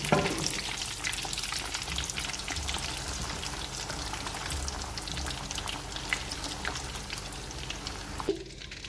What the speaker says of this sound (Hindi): अब इसे गरम गरम तेल में शामिल कर देंगे कोफ्तों को और फ्राई कर लेंगे जब तक इनपे गोल्डन कलर ना आ जाए